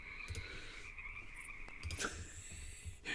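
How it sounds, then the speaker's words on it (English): Toads croak in a swampy chorus, with several low, brief croaks scattered irregularly over a continuous background hum of insects and wetland ambience, fairly faint and without speech. "Whenever you get close to him, you hear the swamp."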